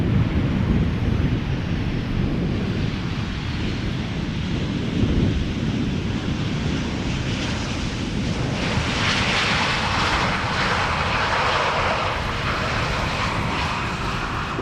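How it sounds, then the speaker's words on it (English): A Transavia Boeing 737-700 airliner touching down at Schiphol Airport after a flight from Palma de Mallorca, a loud sustained jet engine roar rising into broadband rush as reverse thrust builds, with wind buffeting the microphone. "Transavia flight 5624 arriving from Palma de Mallorca after 2 hours and 15 minutes, now touching down."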